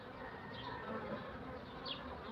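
Honeybees swarm in dense numbers around an opened beehive that was recently split from a single colony, making a continuous close buzzing drone with occasional louder passes as individual bees fly near.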